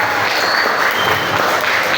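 A school orientation crowd (MPLS) claps together, a dense steady burst of applause filling the room throughout, loud and close with no voices over it.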